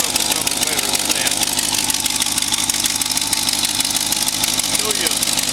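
Rebuilt car engine with a homemade exhaust manifold, idling steadily and loud up close in a rapid, even pulsing rumble with no pauses.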